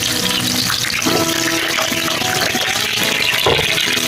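Water pours into a pressure cooker holding chillies, garlic, onion and a vegetable during cooking, a loud continuous splashing stream over a sizzle.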